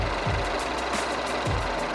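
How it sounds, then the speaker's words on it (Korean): An Alpheon hybrid sedan's gasoline engine idles steadily at close range, a low continuous rumble with a faint rhythmic knock and no voices. "엔진 소리 한번 들어보도록 하겠습니다"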